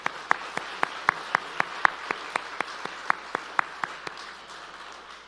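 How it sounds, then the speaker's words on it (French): Sparse, evenly spaced claps from an awards-ceremony audience, a steady run of sharp single hand claps, fairly close and moderately loud, thinning out toward the end with no voices over them. "Belle main d'applaudissements encore."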